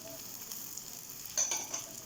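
Steady, fairly quiet sizzling of tomatoes and green chillies in a frying pan with potatoes, with a brief louder hiss and crackle partway through as food shifts.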